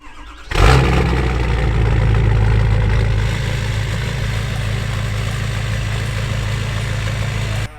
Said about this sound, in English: This is gonna be a really cold start.